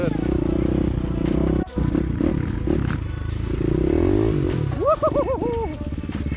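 A Husqvarna FE 350 motorcycle engine runs steadily underneath while riding, with a rising-and-falling pitch sweep near the end and people talking over it.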